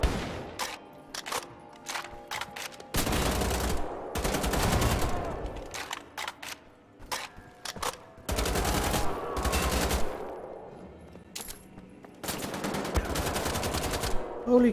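Gunfire in the shooter game Wolfenstein: The Old Blood, loud bursts of rapid automatic shots in several separate volleys with short gaps between them, some single sharp shots among them.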